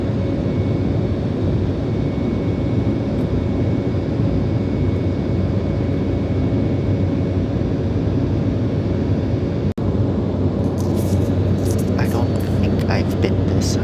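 Steady, loud cabin roar of a jet airliner cruising after departure from Glasgow toward Amsterdam, a constant broadband rumble throughout with a brief dropout near the end and faint clicks.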